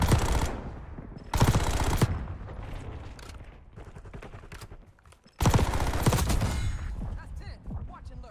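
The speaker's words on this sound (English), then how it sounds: "The thing about the Saug, it just shoots so fast, bro." A Saug submachine gun in Black Ops 6 fires rapidly in two long, dense bursts of close, crackling shots, separated by a quieter stretch of distant game noise.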